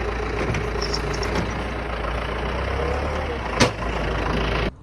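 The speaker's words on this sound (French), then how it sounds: "Du coup on a amené un tracteur." A tractor engine runs at a dirt track, a steady low rumble with a brief louder bump near the end before it cuts off abruptly.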